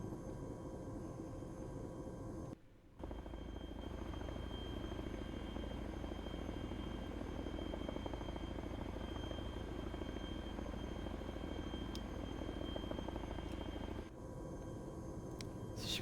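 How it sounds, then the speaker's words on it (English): A helicopter-like aircraft engine in ArmA 3 drones steadily and loudly for the whole stretch, broken only by two brief dips, with no talk over it. "I love the sound of that engine."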